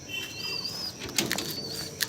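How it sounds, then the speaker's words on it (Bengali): High-flying pigeons being released flap their wings as they take off, a couple of sharp clattering bursts over steady outdoor background noise with some faint chirping. "এই পায়রা ছেড়ে দেওয়া হয়েছে"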